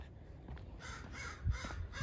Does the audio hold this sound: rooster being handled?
no